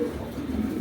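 Breeding pair of pigeons cooing, a short soft coo close by over a low background hum.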